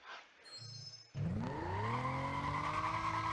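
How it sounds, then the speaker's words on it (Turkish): A Lamborghini Murcielago in Need for Speed Most Wanted (2012) sits quietly, then its engine bursts into a loud acceleration with rising revs and a brief tire squeal, holding a strong roar to the end. "Lamborghini Murcia Lego. Güzel görünüyor. Sesi de mükemmel olan bir araba."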